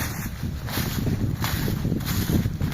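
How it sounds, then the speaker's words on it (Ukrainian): Gusty wind buffets the microphone with a steady low rumble and rustling, fairly loud throughout, with no one speaking. "Вітер страшний."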